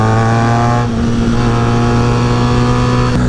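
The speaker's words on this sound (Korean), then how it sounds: "이게 멀리서 들으면은 단기통이 막 되게 힘주면서 달리는 소리가 나기도 해요." BMW R nineT with its boxer twin engine running close by, producing a loud, steady, throaty drone that holds an even pitch throughout, with no voices.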